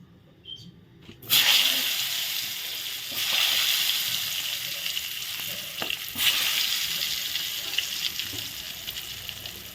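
Eggplant slices dropped into hot oil, a near-silent start that bursts into a loud, steady frying hiss, with a few brief flare-ups and soft stirring knocks later.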